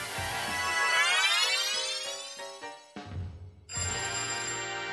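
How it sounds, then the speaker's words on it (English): A phone ringtone plays loudly and alone, a bright rising electronic melody that breaks off and starts again with a sustained tone near the end. "You hear your phone ringing from the other room."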